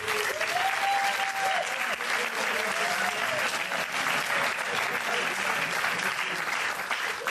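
Applause from a theatre audience at a film preview screening, a dense and steady wash of clapping that runs throughout, with a faint voice carrying over the top.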